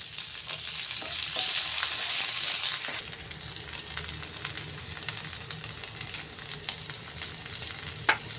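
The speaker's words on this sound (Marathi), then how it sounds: "कांदा आणि शिमला मिरची ती पण घालून घेऊया. आता हे आपल्याला मोठ्या गॅसवरच परतायचं आहे." Onion and capsicum stir-frying on high flame for honey chilli potato, a steady loud sizzle with scraping stirs that drops to a quieter crackle partway through, plus one sharp clink near the end.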